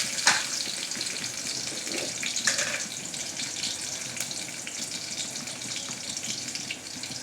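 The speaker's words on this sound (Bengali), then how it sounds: "রসুনটা একটু ভাজা ভাজা হয়ে যায়" Garlic sizzles in hot oil in a pan before greens go in, a steady crackling fry with a few sharper spits near the start.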